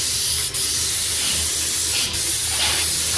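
A paint sprayer coats house trim beside large lattice patio covers, a loud, steady, close hiss that cuts out briefly twice.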